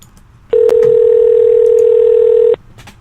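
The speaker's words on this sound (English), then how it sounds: "That would be Amy's phone ringing." A phone rings with one long, loud, steady electronic tone lasting about two seconds, standing out clearly over a quiet background.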